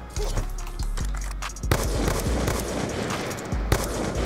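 Gunfire in Black Ops 2 during a trickshot attempt: several sharp, loud shots ring out at irregular intervals over a noisy game soundscape.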